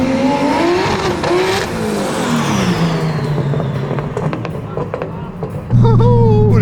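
A tuned car on a test drive accelerates hard, its engine pitch climbing through gears with a rising turbo whistle. The engine is loud and close, and a voice talks over it partway through.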